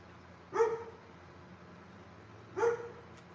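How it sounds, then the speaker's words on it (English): Two single dog barks, a couple of seconds apart, moderately close against a quiet background. "My dog is barking for some reason."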